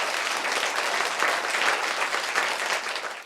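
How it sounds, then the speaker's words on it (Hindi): An audience at a community gathering in a Buddhist vihara applauds, a steady, moderately loud roar of many hands clapping that holds evenly and fades slightly at the end. "जोरदार तालियां आप मेरे लिए बजा सकते हैं।"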